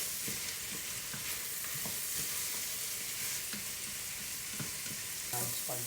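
Homemade pasta sauce sizzling steadily in a pan, with a constant hiss broken by soft scrapes and taps of the spoon as it is stirred.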